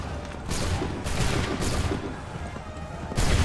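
Musket volleys crack out in Assassin's Creed 3, several loud booming discharges spaced a second or so apart over a rumbling battlefield din.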